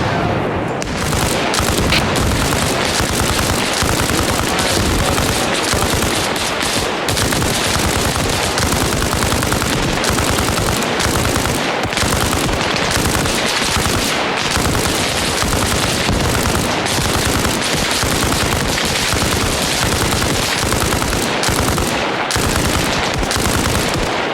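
Nonstop gunfire in the military shooter game Arma Reforger: loud, dense bursts of automatic weapons and rapid shots layered over each other for the whole stretch, with no voices.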